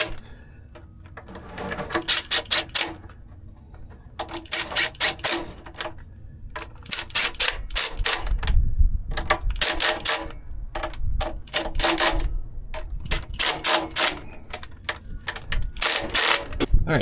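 A wrench tightens down a fuel pump drive adapter on a Caterpillar C18 engine in a 657E scraper, a rapid series of sharp metallic ratcheting clicks in repeated bursts with short pauses between them.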